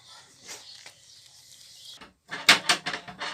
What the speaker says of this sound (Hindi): हाँ, दरवाजा खुला, आ जाओ।